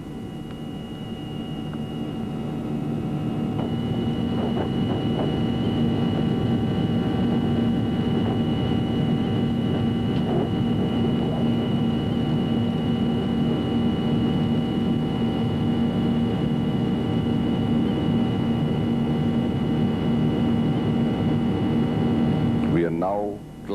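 A steady, loud broadband drone fills a PIA airliner cabin while it climbs through 7,000 feet at 250 knots over the Margala range in Pakistan, holding constant before dipping briefly at the very end.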